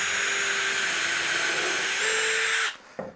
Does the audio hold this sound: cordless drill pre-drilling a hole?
yes